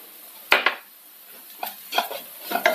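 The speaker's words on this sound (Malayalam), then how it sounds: "ഇതിൻ്റെ പച്ചപ്പ് മാറുന്നത് വരെ ഒന്ന് വഴറ്റണം" Spices for red chicken curry being stirred and sauteed in a pan, with a few sharp spoon-on-pan scrapes and clinks at irregular intervals over a quiet background.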